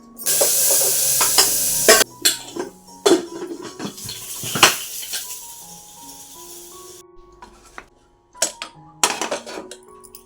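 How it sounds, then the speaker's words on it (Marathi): Hot oil hisses loudly as spices hit the pan, then sputters and crackles in bursts amid scraping and clanking of a metal spoon. "टोमॅटो कढीपत्ता मिरच्या लसणाची फोडणी देऊन छान अशी डाळीला फोडणी देते आता"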